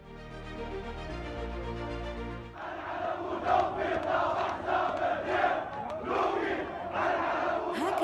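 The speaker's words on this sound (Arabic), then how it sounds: "هتافات بأصوات عالية رافضة لأي مرشح من الطبقة السياسية" Protesters chant loudly in unison in Tahrir Square, a dense crowd shouting rhythmic slogans against political candidates; the chanting follows a short stretch of sustained music and continues strongly to the end.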